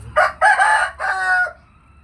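A Thai fighting rooster crows once, loud and close: a broken, three-part call lasting under two seconds with no other sounds around it.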